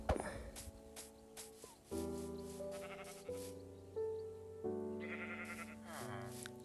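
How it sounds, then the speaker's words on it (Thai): Sheep bleat in a village-building video game, a series of repeated tonal bleats over a steady melodic game music backdrop, moderately loud and close with no speech. "เลี้ยงแกะ"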